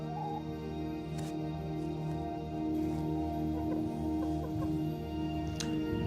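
A pet chicken clucking softly at close range, a few low murmuring clucks over a steady background hum, with no talk.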